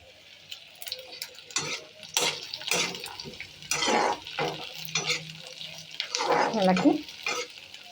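Chopped capsicum tossed into a pan crackles and sizzles in uneven bursts as it is stirred, with spatula scrapes and clinks against the pan.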